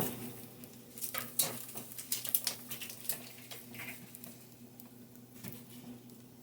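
Chopped onion drops into a hot pan and starts frying, with a burst of clattering utensil scrapes and pattering sizzle early on that settles into a quieter, steady fry, heard up close.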